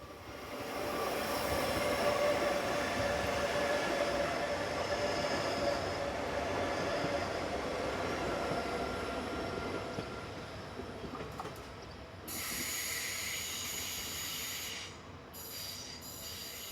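A TPF-operated passenger train bound for Bulle, Switzerland, rumbles past steadily, wheels clattering and squealing on the rails, loud and close, easing off toward the end.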